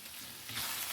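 Potatoes frying in a pan as ginger goes in, a steady close sizzle that swells louder and brighter toward the end of the short stretch.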